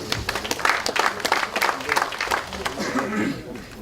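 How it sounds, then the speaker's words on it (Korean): Applause from lawmakers at a Democratic Party of Korea general assembly greets policy committee chairman Jo Jeong-sik, a dense patter of clapping in a meeting hall that continues steadily for a few seconds, with voices murmuring underneath. "박수로 맞아 주십시오"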